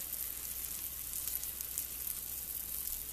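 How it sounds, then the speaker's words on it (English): Pancake batter fries in a preheated pan with a soft, even, continuous sizzle and a quiet crackle, close by and steady with no talking. "1 ladle full of our pancake mix, and put it right into that preheated pan"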